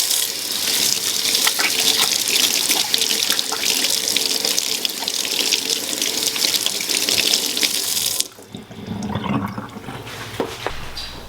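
Water runs from a tap into a goat milk soap mixture, a loud steady gushing splash that cuts off abruptly near the end, leaving quieter trickles and drips.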